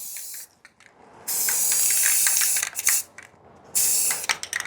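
Spray paint can hissing onto cardboard in two long, close, steady bursts separated by a short gap, followed by brief hissy puffs.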